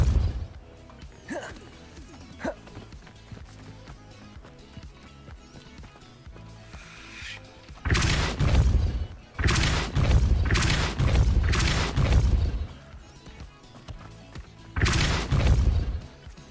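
A Depulso force spell cast in the video game Hogwarts Legacy, producing heavy booming bursts with a thudding impact, repeated several times in loud clusters after a quieter stretch of game sounds.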